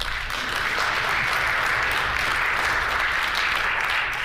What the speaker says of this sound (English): Maybe everybody could just hold their applause.